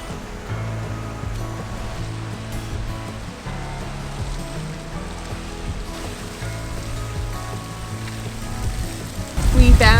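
Strong wind roars over crashing whitecapped waves on the Nova Scotia coast, a dense, steady wash of surf noise with a louder gust buffeting near the end.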